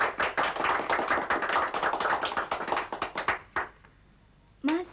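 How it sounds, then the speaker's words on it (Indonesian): An audience applauds for a poet at a campus poetry reading, a burst of close crowd clapping that thins out and stops after about three and a half seconds, followed by a brief sound at the end. "Tepuk tangan untuk Ina."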